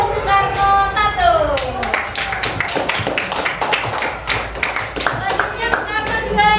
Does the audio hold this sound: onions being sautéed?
no